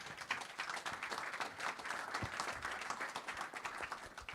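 Faint applause from a conference audience for a panel on major international sporting events, a soft continuous patter of many hands for several seconds, heard from a distance in the room.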